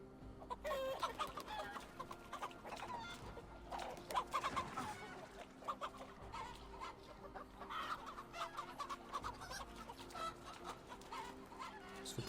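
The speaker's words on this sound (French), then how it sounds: "Il se fait attaquer par des poules." Chickens clucking and squawking in a flurry as they attack a character in the video game Assassin's Creed Valhalla, busy and continuous over layered game ambience and background music.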